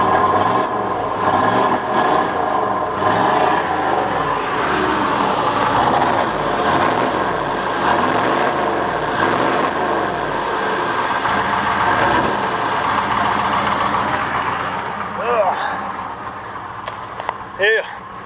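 Engine of a newly bought used truck running and revving under light throttle, a steady loud rumble with rising and falling pitch, someone talking over it.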